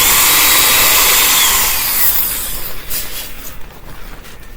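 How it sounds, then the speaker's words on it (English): A close drill whirs with a hissy, high grind while countersinking screw holes in wood for large-headed deck screws, then winds down and sputters irregularly. "So I'm countersinking the holes."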